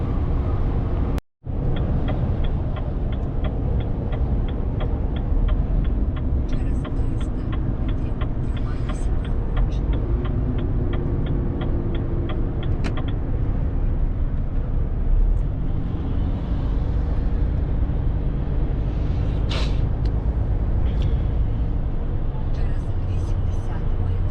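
Steady road and engine rumble from a vehicle cruising on a long delivery drive toward Norway, continuous and fairly loud, with a faint ticking pattern and a brief dropout near the start; voices are heard over the drone.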